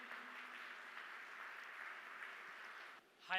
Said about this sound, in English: Please clap for both the speakers